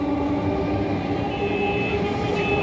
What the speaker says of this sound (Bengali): যে ট্রেন যাচ্ছে